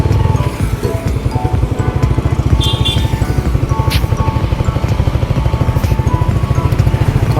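Motorcycle ride along mountain roads near Dehradun, India, a steady close engine thrum with a fast regular pulse holding throughout, plus faint wind noise and occasional rattles.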